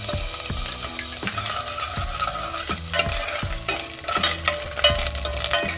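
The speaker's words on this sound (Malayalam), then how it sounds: "നമ്മളിതിനകത്തോട്ട് തേങ്ങാക്കൊത്ത് ഇട്ട് കൊടുക്കാം" Coconut pieces fry in hot coconut oil for mutton curry, a steady loud sizzle broken by repeated scraping stirs of a spatula against the pan, with no talking.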